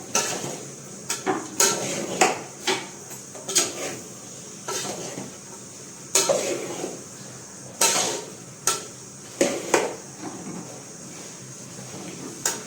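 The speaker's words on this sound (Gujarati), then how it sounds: "હવે બધું મિક્સ કરી ને ચડવા દઈશું આપણે ફટાફટ મિક્સ કરી દઈએ" A spoon scraping and clanking against a cooking pot while bottle gourd and tomato are stirred, with repeated sharp metallic knocks in an irregular rhythm over a soft background sizzle; no talking.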